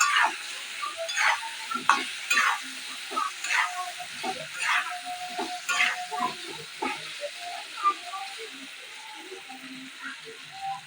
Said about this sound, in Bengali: আলুগুলোকে সুন্দর করে ভেজে নেবো আমি